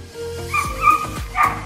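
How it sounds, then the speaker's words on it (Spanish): A dog in San Juan del Río, Querétaro whimpers and yips in a string of short, high, whiny cries, several overlapping squeals with soft thumps beneath, moderately close. "Perro chillando."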